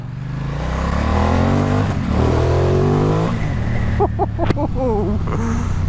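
A 2021 Ducati XDiavel Black Star motorcycle engine revs loudly and steadily up close, its pitch climbing and falling through several throttle blips, with a person talking over it near the end.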